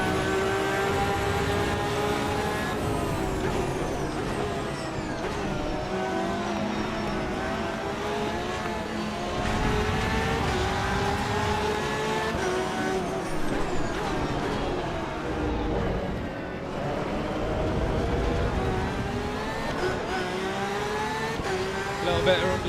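A Porsche race car engine in a racing video game at Brands Hatch or the Nordschleife, a loud continuous drone rising and falling in pitch through gear changes and throttle lifts, with someone talking over it.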